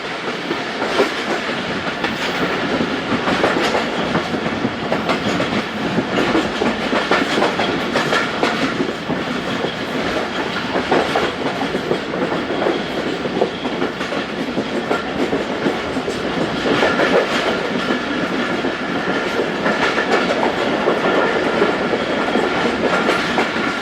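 The Jaffar Express passenger train rolls along the rails on the Peshawar to Lahore route, a loud, steady rumble with rhythmic wheel clatter heard close, from on board, for over twenty seconds.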